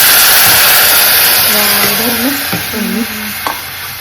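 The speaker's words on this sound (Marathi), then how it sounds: "तर बघू शकता अशी मस्त फोडणी बसते" Ground coriander, garam masala and red chilli powder sizzle loudly in hot oil as a spice tempering, a steady bright hiss with a voice speaking over it partway through.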